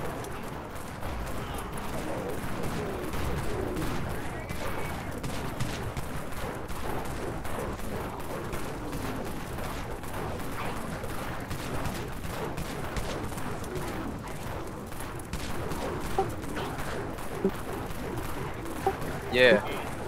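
Rapid video game gunfire rattles in continuous bursts at low volume, with voices talking over the shooting throughout.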